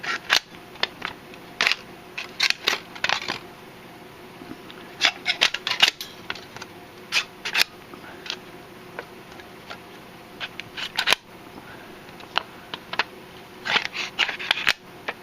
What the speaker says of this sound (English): Let's cut some metal with this thing.